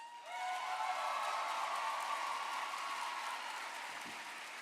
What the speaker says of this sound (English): we are gonna give you the biggest round of applause